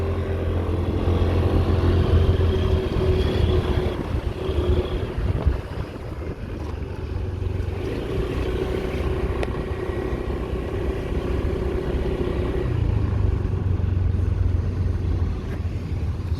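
A Honda Dio 110 scooter from Japan being ridden, giving a continuous low engine hum mixed with heavy wind rush over the microphone, steady and fairly loud throughout with no talk.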